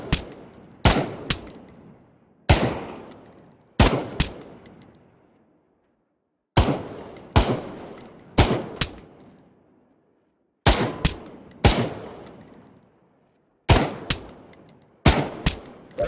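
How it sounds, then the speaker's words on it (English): Gunshots fired at targets in the VR shooting game Pavlov ring out in sharp single cracks and quick pairs, about a dozen shots spaced by short pauses, loud and close with brief decaying tails and no talking. "Shoot all the targets to continue."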